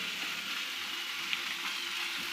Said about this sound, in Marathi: तर बघा बोंबील तळायला घेतलेले आहेत